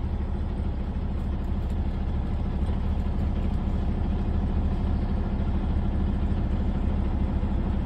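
Tractor-trailer truck engine running steadily in gear with the parking brake set, a loud, continuous low rumble and clatter heard close with no talking.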